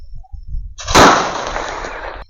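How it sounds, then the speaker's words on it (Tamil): A medium-size Lakshmi vedi Diwali firecracker explodes with a single loud, sharp bang, followed by a long rumbling decay of over a second. Faint low noise comes before it. "ஸோ அடுத்து இந்த மீடியம் சைஸ் லட்சுமி வெடி வைக்கலாம்."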